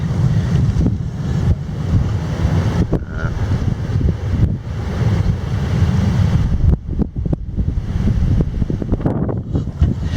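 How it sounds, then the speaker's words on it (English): Strong wind on Pensacola Beach on the Gulf buffets and roars against the microphone in gusts, with a low rumble like surf or water underneath and no talk. "It's kind of windy."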